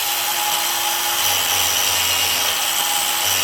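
A small grinding wheel scuffs a torn tire sidewall with a continuous, close, abrasive whirring and steady hiss, with no pauses over a few seconds.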